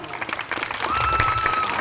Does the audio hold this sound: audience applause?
yes